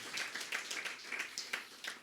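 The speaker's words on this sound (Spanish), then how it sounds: "¿Cuántos le dan un aplauso fuerte a Él?" A church congregation applauds during a Spanish-language sermon with faint, steady clapping from many hands, heard at a distance with no voices over it.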